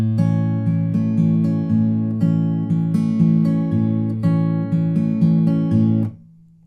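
Acoustic guitar fingerpicks the intro of a song at a slow practice tempo, a steady repeating pattern of plucked notes over bass, ending on a final bass note before being muted.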